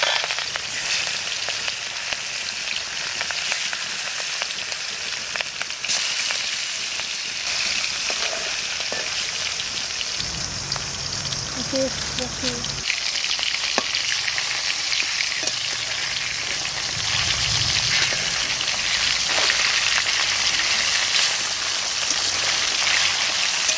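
Hilsa fish pieces seasoned with salt and turmeric fry in hot oil with a loud, continuous crackling sizzle that stays dense and close for the whole stretch, now and then shifting with a few lower bubbling bursts.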